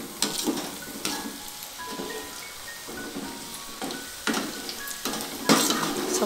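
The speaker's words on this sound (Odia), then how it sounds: "ଏତିକି ରହିଛି କୋବି, ଧୀରେ ଧୀରେ ମୁଁ ସବୁ ଛାଣିଦେବି" Cabbage pieces for chilli kobi deep-fry in hot oil with a steady, close sizzle, broken by repeated scraping and stirring strokes of a spoon or slotted ladle against the pan.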